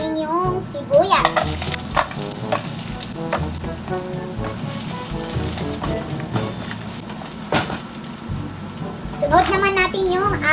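Sliced onion sautés in a hot pan for a pork curry, sizzling steadily, with clattering stirring strokes and utensil taps throughout while a person talks over the cooking.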